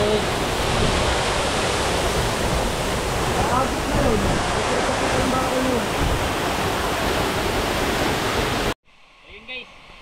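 Waterfall at Secret Falls in Montalban, Rizal: a loud, constant broadband roar of falling water, close by, with a voice faintly audible beneath it, cutting off abruptly near the end.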